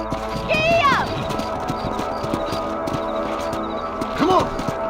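A horse in the Red Dead Redemption video game gallops with a steady clip-clop of hooves, and two whinnies rise sharply over the hoofbeats near the start and end.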